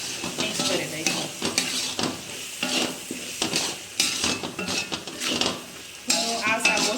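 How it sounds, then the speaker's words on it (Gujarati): Peanuts are stirred into a cluster bean and potato curry in a pan, with repeated scraping and clinking of a utensil against the pan over a faint sizzle. "હવે એમાં આપણે માંડવીના દાણા નાખી દઈશું અને સરસ રીતના બધું મિક્સ કરી દઈશું."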